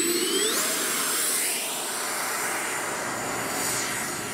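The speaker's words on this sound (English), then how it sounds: "Very nice jet." Jet aircraft, a model plane flown at a flying session, roaring past close by with a rising then falling whine, loud and steady throughout with no talking over it.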